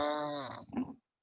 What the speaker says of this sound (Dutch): stop met fucking snurken